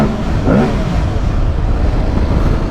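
A 2023 Aprilia Tuareg 660 adventure motorcycle engine rumbles steadily inside a tunnel, a loud, close, grunty drone with a brief rise in revs early on and a dense low-end echo throughout.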